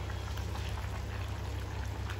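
Water coming to a boil in a clay pot for an aloo chicken curry, a steady dense bubbling hiss with low rumble, close and continuous without speech.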